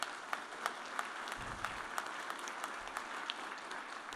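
Steady applause from an audience thanking the Pittman Police for their service at an after-party event, a dense field of claps with a few sharper peaks, moderately distant and sustained without talk.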